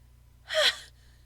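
A storyteller playing a rhinoceros lets out one sharp, close gasp, a quick breathy intake of air that rises and fades within half a second, standing alone against a quiet background.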